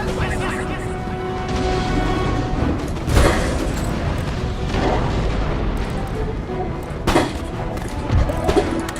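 Musket volleys ring out during an Empire: Total War battle, several rolling bursts of gunfire and booms layered over ongoing battle din, while someone talks throughout.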